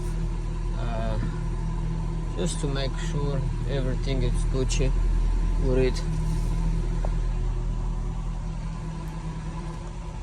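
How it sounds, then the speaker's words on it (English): An auction car, freshly repaired with a new timing setup and fuel pump, idles with a steady low engine hum while someone talks close by. "I'm gonna keep the car running"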